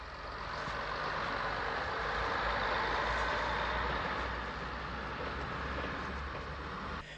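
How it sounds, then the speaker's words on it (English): A Great Northern Railway (Ireland) articulated rail car arrives on a service from Howth, a steady, loud, broad engine and running rumble that holds close throughout with no talk. "And a GNR articulated rail car arrives on a service from Hoth."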